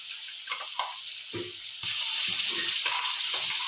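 Sesame seeds fry lightly in a pan with a soft, broadband sizzle that swells noticeably louder partway through, while occasional stirring clatters sound up close.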